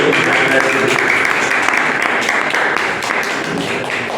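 Loud, continuous applause from a live show audience, a thick wash of many hands clapping for the full length, with a voice faintly audible underneath.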